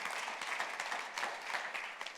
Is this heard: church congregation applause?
yes